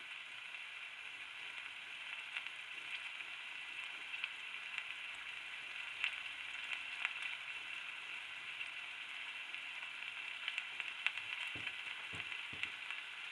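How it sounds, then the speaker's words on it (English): Beaver meat pan frying on a rocket stove, a soft steady sizzle and crackle with a few faint clicks near the end, no voices. "that beaver's cooking right away. Pan fry my beaver"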